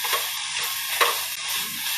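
Vegetables sauté in a pot coated with masala and onion for biryani, giving a steady close sizzle with occasional stirring scrapes.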